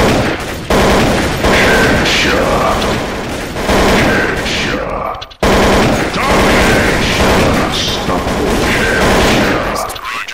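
AK rifle fire in the shooter Counter-Strike: Source: two long, loud stretches of rapid automatic shots, close and harsh, separated by a brief pause.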